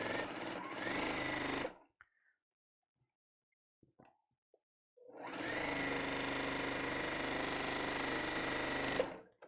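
A Brother sewing machine stitching at high speed in two long, loud, even bursts. The bursts are separated by a few seconds of near silence broken only by small clicks.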